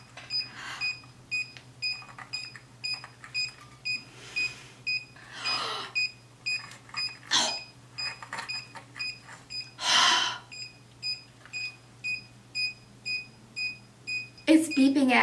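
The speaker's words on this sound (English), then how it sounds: "It's beeping at me. It keeps saying error." A curling iron emits a long run of short, evenly spaced electronic error beeps, clear and close, with a voice talking at intervals between and over them.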